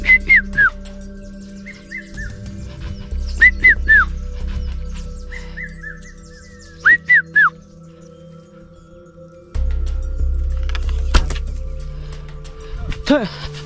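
In the Amazon, a man whistles to imitate a bird, giving short, sharp, repeated whistle calls in clusters amid outdoor background noise, with a low hum underneath.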